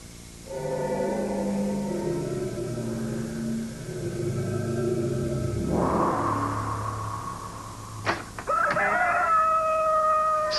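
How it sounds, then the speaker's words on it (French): A rooster crows clearly in a 1987 animated film scene, a long drawn-out call, followed near the end by a few sharp clicks and a brighter high-pitched cry. "au chant du coq"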